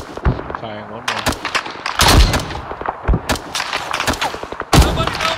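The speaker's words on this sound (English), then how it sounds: "Good effect on mortar. Fire one more. Firing one more." Mortar fire in the combat video game Arma 3: several sharp, heavy blasts go off at irregular intervals, some close and loud, mixed with frequent shouted voices talking over the action.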